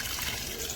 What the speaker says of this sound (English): Now I'm gonna pour the water